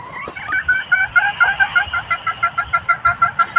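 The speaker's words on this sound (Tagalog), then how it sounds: "Ang ingay ng mga manok mga inday." Chickens cluck over and over in a rapid, rhythmic series of short, fairly close calls that carry on steadily throughout.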